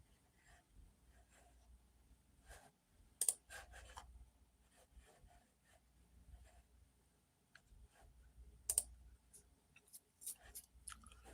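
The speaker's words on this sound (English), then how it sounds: "You gotta hear some loud keyboard smacking." A computer keyboard about four months old is struck in quiet, scattered clicks and a few sharper taps, irregular and close, with no talk.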